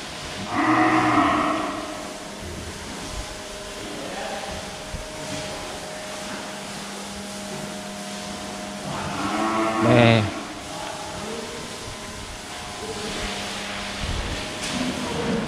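A herd of Brahman cattle, mostly thin cows brought in for breeding, lowing in deep drawn-out moos at close range, one near the start and a louder one midway, over a steady ambient hum.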